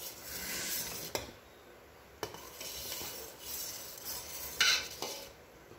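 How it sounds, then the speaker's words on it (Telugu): A spoon scrapes and stirs around a pan of boiling milk being cooked down for palkova, with soft swishing and several sharp metallic clinks against the rim, heard close up and without talk. "ఫ్రీక్వెంట్ గా ఇలా కలుపుకుంటూ ఉండాలండి మీగడ కట్టకుండా"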